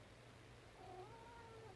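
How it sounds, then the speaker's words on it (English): A pet cat lets out a short, drawn-out meow, faint and close by, with a low steady hum underneath and no talking. "They are very good kitties and very inquisitive"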